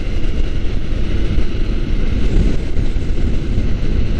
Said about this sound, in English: we're starting to feel the wind from the coast